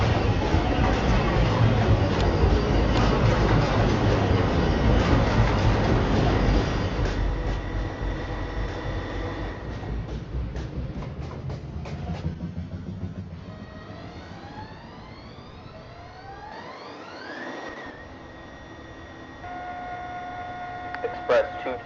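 A New York City subway train runs loud and close at first, with a rumbling roar that fades as it slows. Squealing and whining brake tones rise in pitch and follow, with a few clanks.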